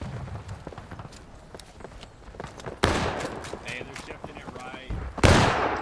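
Musket fire in the War of Rights video game crackles as scattered shots and two louder ragged volleys, with footsteps and movement in between and voices faintly present.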